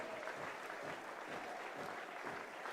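A crowd applauds at a rugby league match between Bradford Bulls and Toulouse Olympique, a faint, distant, steady wash of clapping from the stands.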